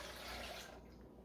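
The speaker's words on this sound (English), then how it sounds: "I'm going to put 2 cups of water in here." Two cups of water poured into a Ninja blender jar, a steady splashing pour close by that cuts off near the end.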